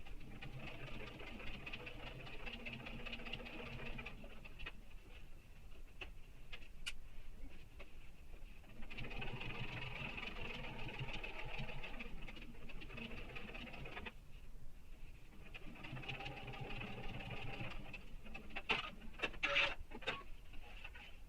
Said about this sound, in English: So, over to my stitch in the ditch foot for my top stitching